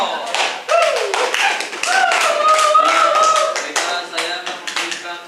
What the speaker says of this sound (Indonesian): beri aplaus kepada tim Pro